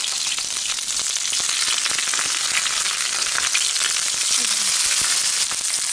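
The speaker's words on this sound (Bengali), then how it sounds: "দেখছেন তেল কিভাবে ছিটতেছে" Lentil fritters fry in splattering oil in a kadai, a loud, constant crackling sizzle with rapid popping throughout.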